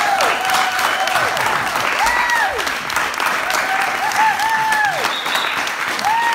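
An audience claps steadily through a public speaking and NLP session, the applause dense and continuous with voices and whoops rising over it.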